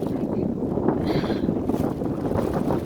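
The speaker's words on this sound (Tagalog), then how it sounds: "Kasi ang lakas ng hangin." Strong gusting wind at Lung Mei beach in Tai Po, Hong Kong buffets the microphone with a steady loud roar, briefly under faint voices.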